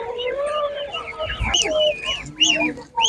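A laying hen at a village animal market in Khryplin clucks in short rising and falling calls among other fowl, with a person talking nearby.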